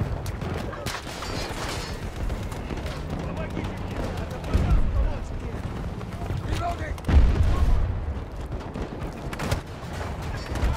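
Explosions and gunfire in Battlefield 2042 Breakthrough mode, a dense continuous battlefield din of rumbling booms and scattered shots with heavier blasts near the middle and end, under a man's speech.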